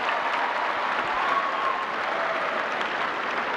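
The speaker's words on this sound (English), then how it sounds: "Let's give them a big round of applause" Steady, close applause from an audience at a Southern University court dedication ceremony, honoring the board members, a dense even wash of clapping with no voices over it.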